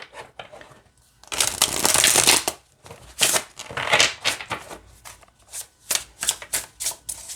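A deck of thick, stiff cardstock tarot cards is shuffled by hand, with one long riffling burst followed by a run of short, crisp snapping shuffles in a quick irregular rhythm, close and loud, with no voices.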